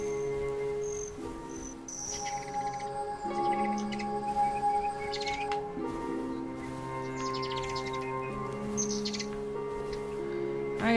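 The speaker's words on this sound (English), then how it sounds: "Birds." Small birds chirp and tweet in a wooded outdoor spot, with repeated short calls at close to middle distance over a steady background of insect or cricket-like trilling, and no talking.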